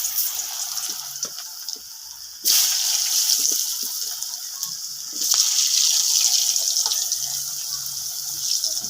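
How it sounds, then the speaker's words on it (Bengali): Chopped potatoes go into plenty of hot oil in a pan and fry with a broad hiss that swells in two sudden surges and stays loud and steady, with no voices. "যেহেতু তেল বেশি আছে, কুচানো যে আলুগুলো আমি একটু দিয়ে দেবো, ভেজে নেব ভালোভাবে।"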